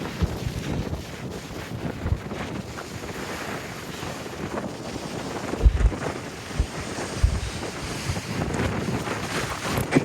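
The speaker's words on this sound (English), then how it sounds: "Whoa, really windy." Strong wind rushes and gusts against the microphone on a hiking trail up Wasson Peak near mile 3, with occasional heavier thumps and a distant surf-like wash underneath.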